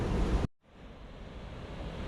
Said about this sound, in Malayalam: മുകളിൽ തടയണ പോലെ കെട്ടിയിരിക്കുന്നതുകൊണ്ട് അവിടെ ഇച്ചിരി വെള്ളം നല്ലതായിട്ട് ചാടുന്നുണ്ടേ